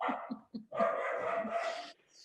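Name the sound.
dog barking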